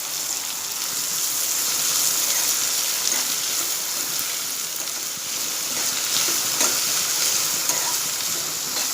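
Onion and curry leaves frying in oil for a Konkani dried bombil chutney, making a dense, continuous hiss of close sizzling that holds steady for several seconds, with faint stirring and no voices.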